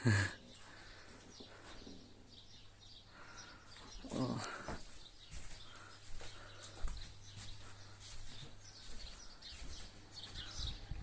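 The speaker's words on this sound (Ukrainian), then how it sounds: "Пташки співають." Small birds chirp faintly outdoors near an evening campsite in Kvasy, scattered high tweets over a low steady hum and a few soft knocks and rustles nearby.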